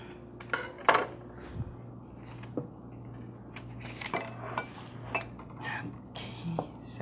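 A spoon stirs pumpkin pancake batter with nuts in a bowl, giving soft scraping and occasional sharp clinks against the bowl at an irregular pace, close by and fairly quiet, with a steady low hum underneath.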